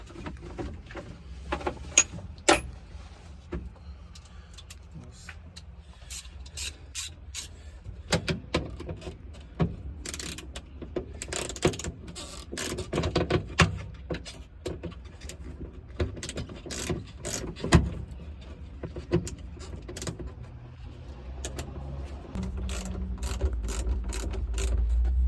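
Ratchet with a 10 mm socket backing bolts out of a Toyota Land Cruiser 75 Series, giving repeated bursts of close, crisp ratcheting clicks with pauses between, over low workshop rumble.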